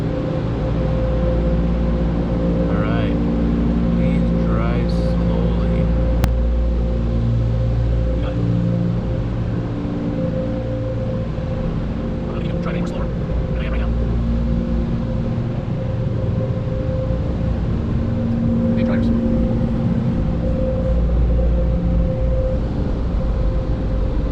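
The blower of a touchless car wash dryer at a Petro-Canada station roars steadily and loudly for the whole stretch, a constant broadband rush with a low hum heard from inside the car, with no talking.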